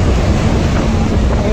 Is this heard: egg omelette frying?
no